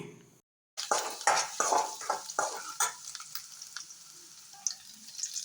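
Ginger, garlic and green chili fry in a little oil for a spicy jackfruit seed dish. After a short silent gap, close, crackling sizzles come in bursts that mix with stirring scrapes, then settle into a quieter, steady fizz.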